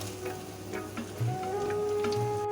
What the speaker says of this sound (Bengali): পেঁয়াজটা ভাজা হয়ে গেছে দিয়ে দেব কুচিয়ে রাখা টমেটো